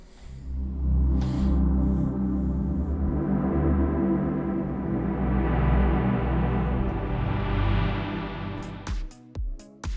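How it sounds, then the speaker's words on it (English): A sustained, swelling Serum synth pad with layered low harmonics drifts on for several seconds, ending with a few short, abrupt stabs. "Pads are gonna sound like this."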